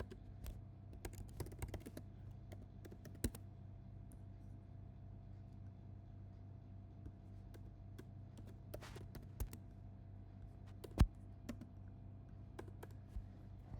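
Keys tapped on a computer keyboard while code is typed in Python, scattered quiet clicks in short irregular bursts over a steady low background hum, no talking.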